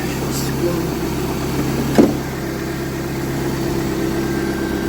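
A repaired Daewoo Nubira 1.6 engine idling steadily with a low, even hum and a faint mechanical tick, one brief knock near the middle, and otherwise no talk.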